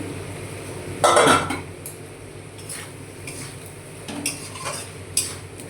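A spoon stirs spices through a potato and squash fish curry in a pan, with one louder clatter early on and then softer scraping and light clinks, alone and fairly close.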